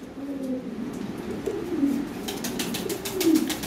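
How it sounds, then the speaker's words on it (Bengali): Domestic pigeons of fancy breeds offered for sale, cooing close by in soft repeated low coos, with faint rustling and bird movement in the background. "অরিজিনাল ফাইনাল বিটের কবুতর"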